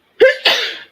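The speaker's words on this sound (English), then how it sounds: "I gotta sneeze." A single loud, close sneeze in a casual indoor game-night setting: a sharp sucked-in breath, then a forceful burst that trails off over about a second.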